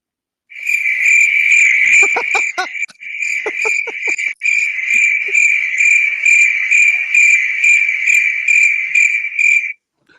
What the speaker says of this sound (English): That's what you're going to hear. Crickets.